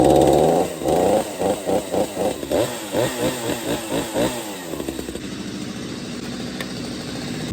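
A chainsaw engine fires and revs in a quick series of rhythmic surges, then settles into a steady idle, loud and close with no talk over it.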